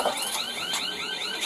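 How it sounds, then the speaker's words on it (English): An alarm goes off during a police stop, sounding a loud, steady electronic pulsing tone with repeated sweeping beeps for the whole brief moment. "Is that your alarm?"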